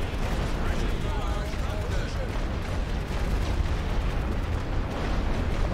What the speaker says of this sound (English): Our Gurkhas are using some grenades to push them back.